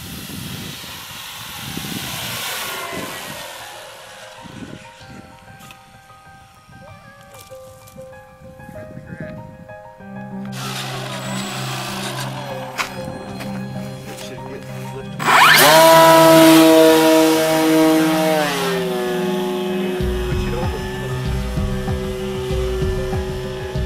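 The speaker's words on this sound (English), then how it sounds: "I'm gonna bring it in and land and then take off with the flap." E-flite Carbon Z Cub electric model aircraft landing and taking off with flaps, a whining motor hiss that drops away, then surges loudly and close as the throttle opens, with some talk mixed in.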